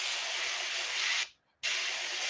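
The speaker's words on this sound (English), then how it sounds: "Sometimes your airbrush might get a little bit angry with the the light spray too" An airbrush sprays paint onto a fishing lure swimbait in a steady, close hiss that cuts out briefly for about a third of a second, then resumes just as strongly.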